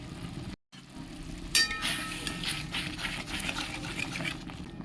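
Spice masala of turmeric, Kashmiri chili, cumin and coriander powder is stirred into a soybean gravy in a pan, giving a bubbling, scraping stir with a brief silent gap early on, then steady wet mixing noise; no talk.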